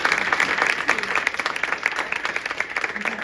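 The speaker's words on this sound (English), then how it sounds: "And You gotta clap for that." Audience clapping at a spoken word performance, a steady wash of many hands applauding close by with a few voices mixed in.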